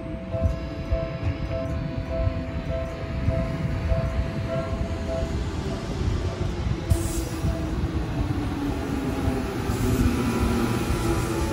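A Seibu Railway train pulling away from a station, rumbling and clattering on the rails, with a brief tonal note early on, as the sound gradually recedes.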